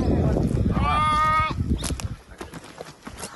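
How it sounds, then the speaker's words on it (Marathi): A goat in the Melghat countryside of Amravati gives one wavering, drawn-out bleat lasting about a second, rising over earlier background chatter and noise, followed by scattered rustles and faint clatter. "इकडची बकरी घ्या."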